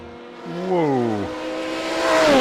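A race car in a sim racing game at Road America whines through rising and falling engine notes as it shifts and accelerates, a clear synthetic motor tone that climbs steadily near the end.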